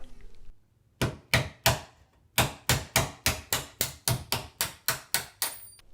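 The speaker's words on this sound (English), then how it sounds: "I just use a nail and a hammer to do that" Sharp metallic taps of a hammer on a nail, driving out a closet door hinge pin, ring out in a steady series, starting with a few spaced strikes, then a quicker regular run of blows, close and clear.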